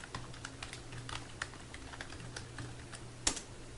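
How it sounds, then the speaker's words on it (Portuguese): Rapid, close keystrokes on a computer keyboard as a program is entered into an electronic voting machine, an uneven run of light clicks ending in one sharper key strike. "do que eu digitar no teclado"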